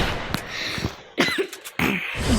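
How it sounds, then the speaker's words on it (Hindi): Several harsh, throaty coughs in quick bursts, close to the listener, separated by brief pauses. "इतनी खांसी आ रही है क्या मुझे?"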